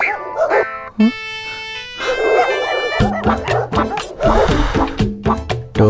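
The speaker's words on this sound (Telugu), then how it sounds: "అమ్మో కుక్క." A dog barks and yips in several sharp close bursts, mixed with a film score and a voice speaking over it.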